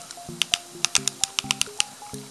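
An Alcatel 354 mobile phone keypad clicks rapidly as someone types, each sharp press paired with a short electronic beep, close and distinct in an uneven rhythm of about a dozen taps.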